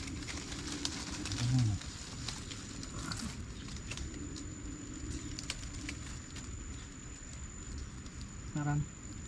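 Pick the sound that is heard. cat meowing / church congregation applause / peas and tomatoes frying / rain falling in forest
rain falling in forest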